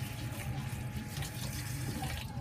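Rice is being washed under a running tap, and the water splashes steadily into a pot and sink, close and continuous with no talking.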